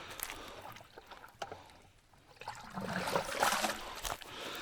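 Water is poured into a bucket of yabbies (freshwater crayfish) outdoors, heard as a rushing, splashing spill that swells over the last couple of seconds after quieter scattered knocks and rustles.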